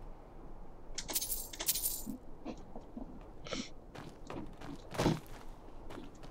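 Coin pickup in the Skyrim video game, a few short, bright metallic clinks over quiet game ambience with faint footsteps.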